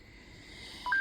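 An old mobile phone plays two short, faint keypad beeps at the end, over low room hiss with no talking.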